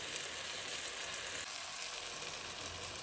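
Panchamirtham sweet mixture with palm sugar stirred in a pan gives a steady soft sizzle and faint scraping hiss throughout, close and unbroken.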